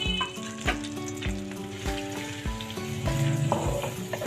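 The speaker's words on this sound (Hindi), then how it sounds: "प्याज को हमने फ्राई कर लेना है, हल्का ब्राउन कलर हमने इसका करना है।" Chopped onions fry in hot oil in a kadai with a steady, close sizzle, partly masked by rhythmic background music with regular beats.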